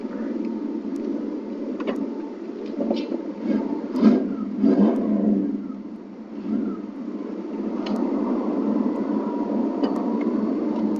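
A truck engine sputters unevenly and revs in rough bursts, a steady mid-pitched drone rising and surging around the middle before settling back into a continuous uneven run.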